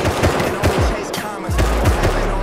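Loud, rapid bursts of gunfire from a PvP fight in the survival video game Rust, several sharp cracks in quick succession with a booming low end, close and dominant.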